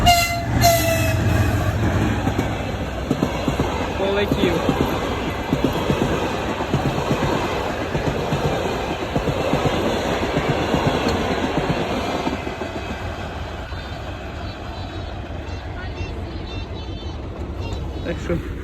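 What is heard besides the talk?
passing train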